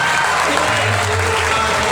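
Audience applauding in a large hall, a loud, dense wash of clapping that stays steady throughout the short stretch.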